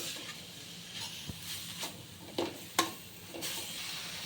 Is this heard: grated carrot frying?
yes